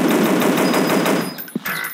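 Rapid automatic gunfire from a dinosaur hunting video game rattles loud and close for over a second, then stops, leaving a short thump and a faint tail.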